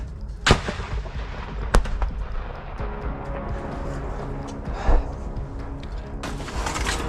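Artillery shells, probably 152 mm, land nearby in a combat zone, three sharp heavy blasts spaced a second or more apart over a rumbling background, with faint voices and breathing between them.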